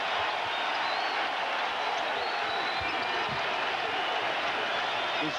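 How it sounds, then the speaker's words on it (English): A basketball arena crowd roars at a 2000 Illinois versus Missouri college game in St. Louis, a loud, sustained wash of cheering and applause that stays at full volume throughout. "This crowd comes alive."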